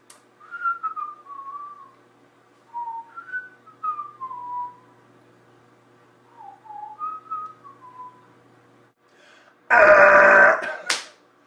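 A person whistles a short, wandering tune in several separate phrases, close and clear, followed by a loud burp at the end.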